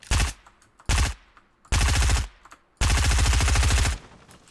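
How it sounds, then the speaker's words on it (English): Automatic weapon gunfire in the Fortnite video game, four loud rapid bursts of shots, each stretch of fire longer than the one before, separated by short gaps, with no talk. "Just keep shooting."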